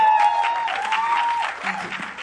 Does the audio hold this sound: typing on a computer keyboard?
no